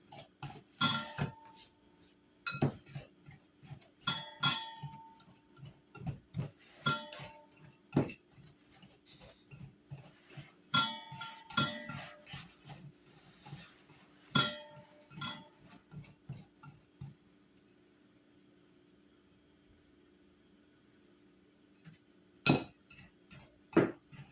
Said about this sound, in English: Now we take our pastry blender and we